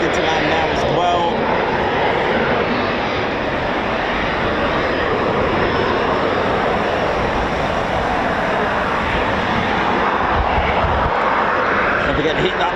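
An aircraft coming in to land at RAF Coningsby, a Eurofighter Typhoon FGR4 station, gives a broad, steady roar that holds loud throughout, with a voice talking over it.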